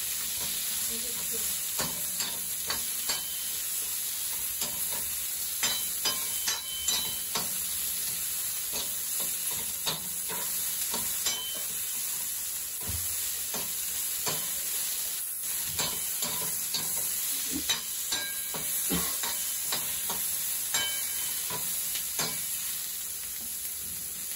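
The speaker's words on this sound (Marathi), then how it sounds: "चांगला कांदा लालसर भाजून घ्यायचा." Onion frying in oil until reddish brown for a Kokan-style crab curry, a steady broadband sizzle with scattered stirring scrapes and clicks throughout, fairly loud and continuous with no voice over it.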